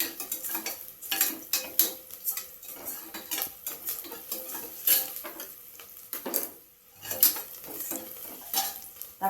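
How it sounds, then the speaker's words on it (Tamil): Onions sauté in ghee with cinnamon and cloves, a soft sizzle under frequent, irregular metallic scrapes and clinks of a spoon stirring against the pan, close and fairly quiet. "நெய் ஊற்றிருக்கேன், பட்டை கிராம்பு போட்டிருக்கேன், வெங்காயம் போட்டிருக்கேன்"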